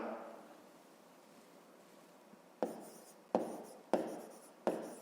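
Pen scratching on paper while solving a fifth-grade math exercise about fabric use, a faint steady scribble followed by four sharp, evenly spaced taps or strokes, close and alone without talk.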